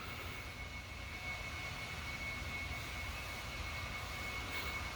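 Steady, droning leaf blower roar with a high whine running throughout, close by and unbroken, outdoors near a deck; no voices.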